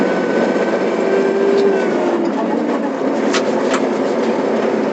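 A Başak tractor engine labours while pulling two trailers loaded with 17 tons, a steady, heavy drone heard up close from onboard with brief higher squeaks over it.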